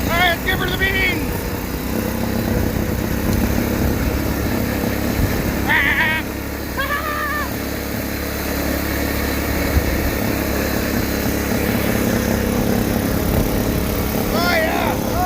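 A Case XC210 lawn mower, revived after sitting more than fifteen years, runs with a steady droning engine revved hard throughout, while someone talks and whoops over it.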